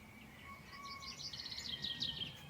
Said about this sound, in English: So far, the main visitors have been the great tit and the blue tit.